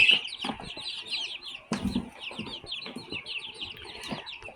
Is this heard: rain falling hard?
no